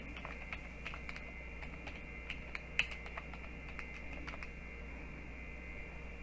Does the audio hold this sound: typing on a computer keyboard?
yes